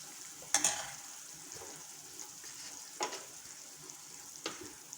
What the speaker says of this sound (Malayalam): ഉള്ളി മുളക് ഇടിച്ചതാണ് ഇട്ട് കൊടുത്തേക്കണത് പച്ചമുളകൊക്കെ ഇട്ട് കൊടുക്കും